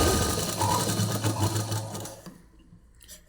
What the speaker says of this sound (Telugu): మిషన్ కుట్టు కూడా బాగా వస్తుంది